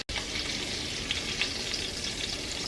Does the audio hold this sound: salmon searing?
yes